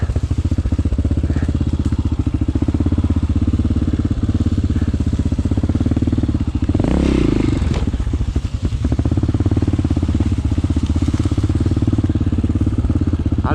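A Yamaha motorcycle riding through rough forest terrain, its engine chugging loud and close for the whole stretch, with a throttle surge and scraping, crackling clatter about halfway through.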